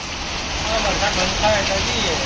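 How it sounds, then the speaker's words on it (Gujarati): Heavy rain pours down in a steady, loud, dense hiss that fills the whole short stretch without a break. "જોરદાર વરસાદ ચાલુ થઈ ગયો છે"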